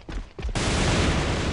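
Para gun firing in the video game AVA, a sustained burst of rapid shots that sets in loudly after two brief earlier pops, continuing dense and unbroken to the end.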